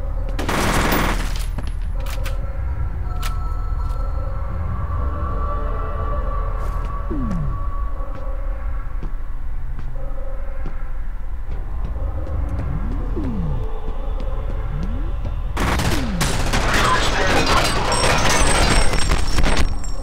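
Bursts of pistol gunfire in the shooter video game F.E.A.R., with a dense volley at the start and another near the end, separated by a quieter stretch of low rumble and scattered game noises.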